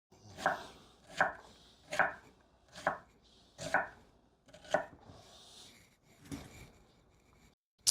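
Knife chopping onion slices on a cutting board in a home kitchen, about seven distinct sharp chops at an even, unhurried rhythm, close and crisp with quiet pauses between strokes.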